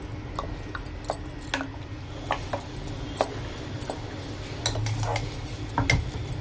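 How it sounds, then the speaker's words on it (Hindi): A spoon or ladle scrapes and clinks against a metal cooking pot while a thick mixture of cooking shole is stirred and mixed, with irregular close knocks over a steady low kitchen hum. "पूरी चीज़ मिक्स कर लो।"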